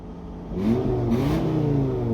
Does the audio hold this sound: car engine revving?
yes